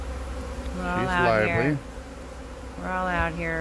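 A low, steady honeybee buzz hums throughout while people talk close by, their voices rising over it in two stretches.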